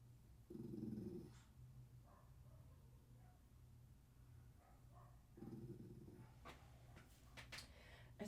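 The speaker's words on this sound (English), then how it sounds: "is this dog just barking for like no reason?" A dog growls and barks indoors in two low, rumbling bursts a few seconds apart, with faint shuffling and small clicks between them and no talking.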